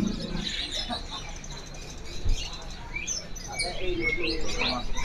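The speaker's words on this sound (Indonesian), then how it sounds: "ini burung sudah pada ngeriwik" Caged canaries at a bird market chirp and twitter in quick overlapping bursts, moderately close over a busy background hum.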